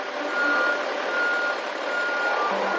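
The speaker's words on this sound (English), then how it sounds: "Woken by the reversing alarm" A truck's reversing alarm beeping steadily at night, a repeating electronic tone over a constant engine drone, moderately close.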